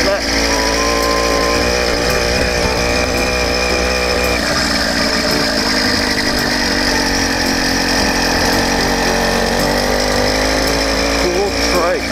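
A 100cc iron-sleeve two-stroke engine on a motorized bicycle runs continuously through a ride, a loud, steady buzzing drone with slight pitch shifts and wind rush, and no talking.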